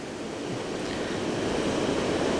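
Ocean surf breaking along the Australian coast under a moody sky, a broad steady wash of wave noise swelling slightly louder, with some wind and no voices.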